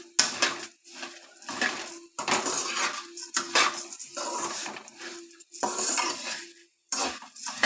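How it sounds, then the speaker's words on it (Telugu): A spoon stirring puffed rice mixed with salt in a bowl, repeated scraping and clinking strokes in short bursts with brief pauses, close and fairly clear. "ఇప్పుడు మొత్తం కలబెట్టుకుందాం."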